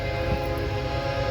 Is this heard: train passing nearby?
yes